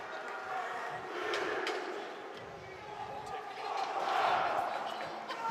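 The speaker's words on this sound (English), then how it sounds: "Prep student section already loud, trying to gather some momentum even before the puck is dropping" A large, loud student section packs an arena before the puck drops at a boys' high school hockey game, Darien at Fairfield Prep, a steady roaring crowd swelling and fading with cheers.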